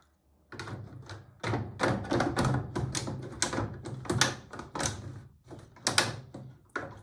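A washing machine detergent drawer is handled and slid back into its slot after cleaning, giving a run of close plastic clunks, knocks and scrapes in irregular rhythm, with no talking.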